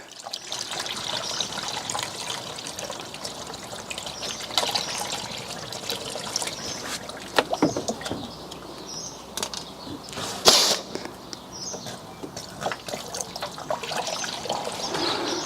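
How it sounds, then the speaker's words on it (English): Water trickles and splashes steadily out of a car engine's drain plug during a coolant flush, a continuous close-up dribble with occasional louder spatters and no talking. "something that looks like clear water coming out of the drain plug"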